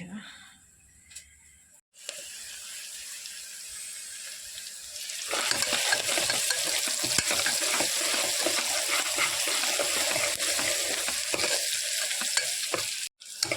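Freshly pounded ginger hits a hot pan, starting quiet with a few knocks. A loud, close, continuous sizzle then swells and holds steady until a brief break near the end.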